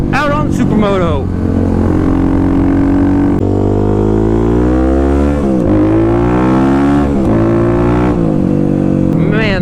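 A 2021 Kawasaki KLX350SM supermoto motorcycle being ridden, its engine loud and close, revving through gear changes with rising and falling pitch over several seconds of continuous riding.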